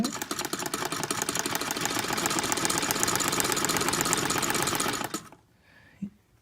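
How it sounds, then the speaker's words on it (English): A circa-1910 antique Wertheim hand-cranked sewing machine runs at a steady pace, its rapid mechanical clatter and the light rattle of the bobbin in the shuttle close and continuous for about five seconds before stopping abruptly. "slight rattling, which is the sound of the bobbin in the shuttle"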